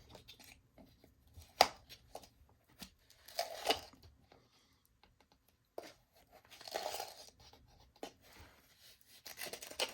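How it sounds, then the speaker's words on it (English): A scooper digs into a tub of G FUEL powder, making quiet scratchy scrapes and soft crunchy rustles in scattered bursts, with one sharper click early on, faint and close with no talking. "I grab the scooper from the tub"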